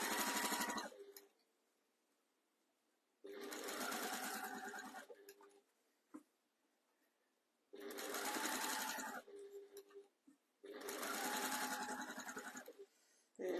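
A sewing machine stitches through the layers of a quilted project right along the edge, running in four loud whirring bursts separated by quiet pauses, close up and free of talk.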